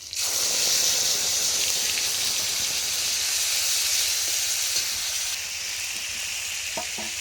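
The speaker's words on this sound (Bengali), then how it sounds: "দিয়ে দেবো টমেটো পেস্টটা," Tomato paste hits a hot pan of oil with black cumin, giving a loud, steady sizzle and hiss that holds throughout, with a few faint clinks near the end.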